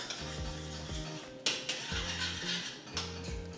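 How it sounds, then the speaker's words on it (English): A spoon stirs a pot of rajma, a kidney bean curry, making short scraping, clattering bursts at intervals over a quiet, steady tonal background. "Give it a really nice stir so it all mixes and blends."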